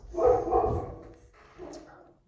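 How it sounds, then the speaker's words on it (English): A dog in a home gives two short, muffled barks close by, then a softer third yip after a brief pause. "We have a dog."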